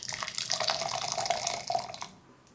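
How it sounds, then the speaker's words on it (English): Recently boiled water pours from a kettle onto coffee grounds in a French press, a steady close trickle and splash that stops abruptly near the end, followed by quiet. "add water that's recently boiled"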